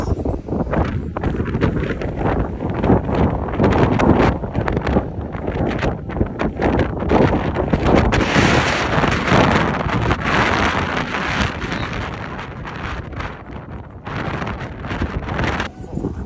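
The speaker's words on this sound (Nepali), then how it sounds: "लास्ट नै चिसो हावा चलिरहेछ" Cold wind gusting hard into the microphone at Wedding Cake Rock in Australia: loud, continuous low rumbling buffeting that swells and eases over several seconds, close and dominant throughout.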